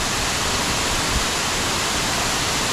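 A waterfall at a waterfall amusement park in Guam rushes as a loud, dense, continuous roar of broadband noise, steady throughout, with no voices.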